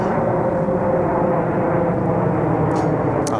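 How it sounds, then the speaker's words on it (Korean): A T'way Air airplane flying low overhead near Gimpo airport, a loud, steady roaring rumble that holds constant for the whole stretch with no talking. "아무래도 김포다 보니까 비행기 소음은 조금 있습니다 티웨이"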